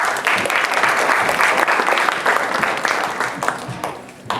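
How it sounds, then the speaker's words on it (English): Dense, steady applause from an audience at a Holi 2016 gathering as guests are introduced, loud and continuous throughout with faint crowd murmur mixed in. "A round of applause for Rahul."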